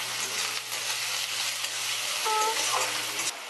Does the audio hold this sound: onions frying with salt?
yes